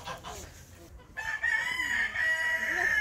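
A rooster in a zoo park in Jijel, Algeria crows loudly and close by, a long drawn-out call following a brief burst of clucking and farmyard noise.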